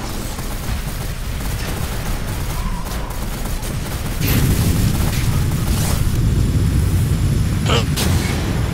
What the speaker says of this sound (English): My rate of fire is so horrible! Yeah! Point blank shotgun!